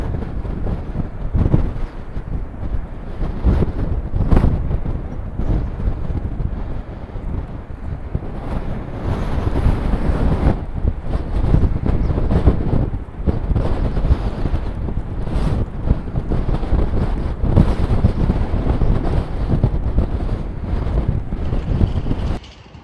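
Strong wind roars across the microphone on coastal dunes near Dundee and Montrose in December, a loud continuous buffeting rush with surging gusts and no speech.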